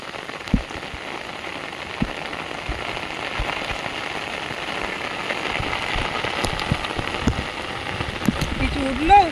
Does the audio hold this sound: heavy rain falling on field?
yes